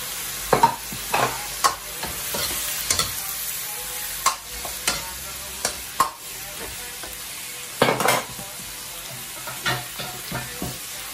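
Close, loud scraping of a spatula stirring young corn, beef and carrots in a hot pan at home, with sharp clatters recurring every second or two over a steady sizzle, alone without talk.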